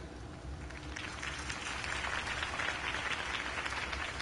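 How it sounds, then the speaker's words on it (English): A crowd applauds loudly and continuously after a campaign speech, the clapping swelling after a brief moment and holding steady to the end. "could have heard that applause"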